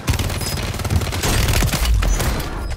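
Call of Duty gunfire in a heavy exchange, with loud, dense bursts of rapid shots and booming impacts that crackle almost without a break. It sounds close, and no voices are heard.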